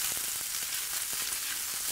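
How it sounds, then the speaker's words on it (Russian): Onions sizzle and crackle steadily in hot oil, a close continuous frying hiss with a few soft stirring clicks. "Потом в этом же масле, уже с мясным вкусом, мы обжариваем лук."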